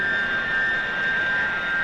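Sci-fi radio drama effect of a spaceship motor running, a steady droning hum with bright sustained whine tones, constant and loud across the whole stretch.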